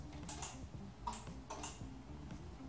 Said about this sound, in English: So I'm gonna press it and all we hear is that click.